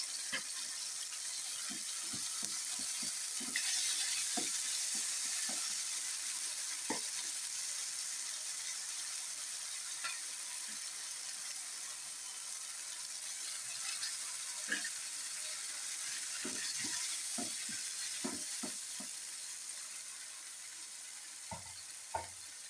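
Ground ginger paste sizzles in a pan, a soft continuous hiss with scattered light clicks and stirring scrapes, fairly quiet and close, with no talking.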